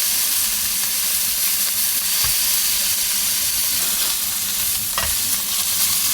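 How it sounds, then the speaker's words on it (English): Surf and turf sizzles in a hot pan as the sides sear, a dense, constant hiss of frying with brief stirring clatters, close and loud, cooked in a van in Quartzsite, Arizona. "Let's start getting the sides seared up."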